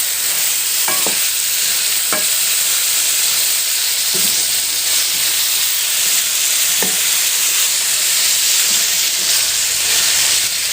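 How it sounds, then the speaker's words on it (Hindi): Potato and eggplant chunks with masala are stirred in a hot pan with a spoon, steady loud sizzling and frying hiss throughout, punctuated by a few sharp scrapes of the utensil against the pan. "सब्ज़ी डाल के अब इसको अच्छी तरह से इस तरह मिक्स कर लें"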